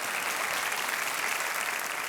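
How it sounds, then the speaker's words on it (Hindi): A studio audience on the KBC quiz show claps enthusiastically, a dense, even burst of applause filling the whole moment without any talk. "इसके लिए एक बार फिर तालियां बजनी चाहिए"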